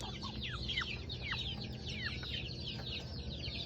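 Backyard chickens and young chicks cluck and peep, with a quick series of high chirps and short clucks close by over a faint steady background hum.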